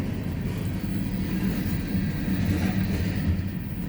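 A BNSF freight train heads northbound through Napavine, Washington, producing a steady, broad low rumble and rolling roar of rail cars at moderate distance that holds constant for several seconds.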